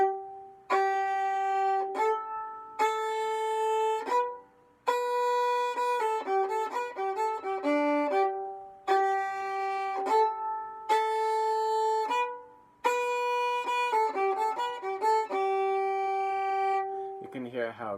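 A solo fiddle plays the Driftless Hoedown tune in short, rhythmic bowed phrases with lifted, syncopated accents and brief pauses between them. It is clear and close, with no talking.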